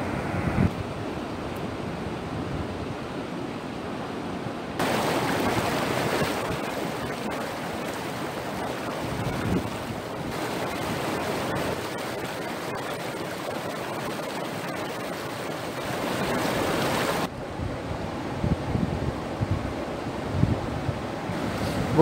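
Rushing water flows at an old mill as a steady, broad roar that lasts throughout, with gusts of wind buffeting the microphone, and no talking.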